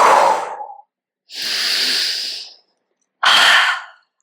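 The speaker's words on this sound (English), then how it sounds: "Inhale. Exhale. Powerful and loud." Three loud, forceful breaths during a breathing exercise, a sharp exhale, then a long steady inhale and another hard exhale, each separated by brief silence, close to the microphone with no talking.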